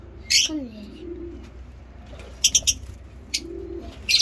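Soft, low pigeon coos rise and fall close by, mixed with sharp chirps and tweets in short bursts against a quiet background.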